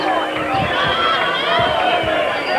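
A boxing arena crowd reacting during a slow round of a Jhonny Gonzalez vs Fernando Montiel fight: steady crowd noise with whistles and murmuring, and a commentator's voice talking over it.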